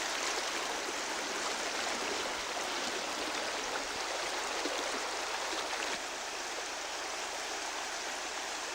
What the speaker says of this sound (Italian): L'acqua se ne va verso il mare.